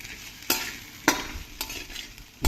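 Halim seeds being stirred in a wok: a spoon scrapes the metal in a few distinct strokes over a soft, steady toasting crackle, close and fairly loud, with no one speaking.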